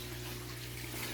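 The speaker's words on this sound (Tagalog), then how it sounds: "Nagpupuno na naman siya ng tubig." Water runs steadily into a tank holding Australian red claw crayfish, a constant close gushing flow under a low hum, with no talking.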